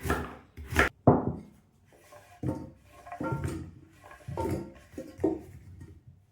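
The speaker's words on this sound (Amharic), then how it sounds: "እከትፈዋለሁ። ቶሎ እንዲበስልልን በዚህ መልኩ መክተፍ አለብን። ስስ አድርገን መክተፍ አለብን።" Sweet potato being sliced thin with a knife on a board, a series of close, crisp chopping knocks at an uneven rhythm, some sharp and some softer, no voices.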